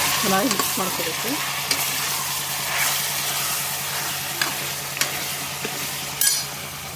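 Marinated chicken being stirred and fried in a cooker, a steady close sizzle with scraping stir strokes and occasional utensil clinks against the pot.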